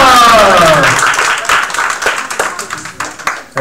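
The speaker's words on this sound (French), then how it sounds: "on va vous en applaudir les deux équipes" An audience applauds both teams at a school improv match, a burst of clapping that starts full and thins into scattered claps over a few seconds, with voices mixed in.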